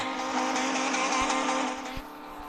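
Mercedes CLS drifting in an Android driving simulator game, a sustained tire squeal over a steady engine tone, loud and continuous, easing off briefly near the end.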